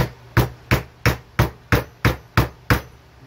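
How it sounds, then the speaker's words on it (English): Eight sharp hammer blows in an even rhythm, driving a small square piece into a slightly undersized hole while making carbon French grips; close and crisp with no talk. "I'm actually hammering that little square piece into a hole that's a little too small for it"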